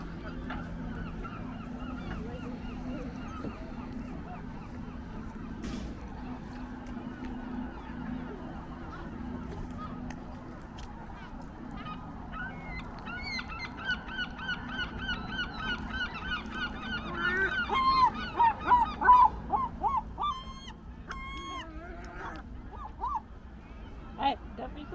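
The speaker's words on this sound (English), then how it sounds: "Look at the seagull waiting patiently for a bit of fish." Seagulls call near the waterfront at Conwy in Wales, harsh honking squawks that grow busier and more repeated toward the end, heard over faint background noise with people talking.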